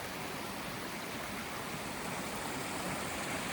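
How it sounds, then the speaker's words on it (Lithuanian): A small mountain stream flowing, a steady broadband rush of water at moderate loudness, continuous and even throughout with no voices. "tai išteka čia upeliukas"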